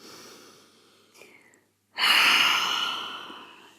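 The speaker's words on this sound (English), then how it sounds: "Taking that final inhale, big exhale out the mouth." A big exhale out through the mouth during a calm yoga session, a soft breath first, a short pause, then one long loud whooshing outbreath that slowly fades.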